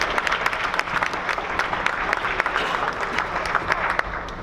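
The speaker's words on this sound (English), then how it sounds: "Let's give them a round of applause for that." A crowd at a high school fall sports awards ceremony applauds steadily, a dense wash of many hands clapping at an even loudness throughout, with no voices rising above it.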